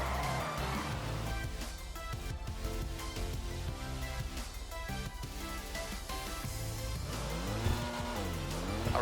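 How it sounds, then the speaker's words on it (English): Comet SR sports car engine in a video game, loud and continuous throughout, with a rising and falling pitch sweep near the end under a busy layer of game sound. "I really like the sound of it. I think it sounds much better than most other cars."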